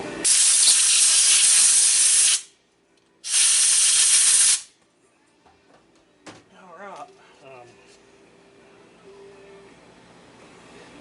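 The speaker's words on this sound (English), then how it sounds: "Find our air hose." Compressed air hose blasting a McCulloch Super Pro 80 chainsaw during repair: two loud, sustained hissing bursts of about two seconds each, then quieter clanks and a brief voice.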